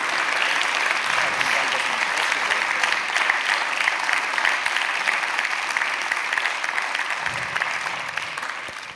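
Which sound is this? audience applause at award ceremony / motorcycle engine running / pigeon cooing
audience applause at award ceremony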